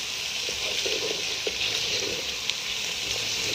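Onions frying in a pan for mutton aloo keema, a steady close sizzle with faint stirring clicks and scrapes, no voices.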